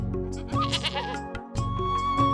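Cartoon-style goat bleating in an animated Hindi folk tale about a fox, an old woman and her goats, a few wavering bleats in quick succession, loud and close, with no talk over them.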